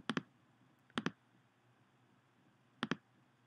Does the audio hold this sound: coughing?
no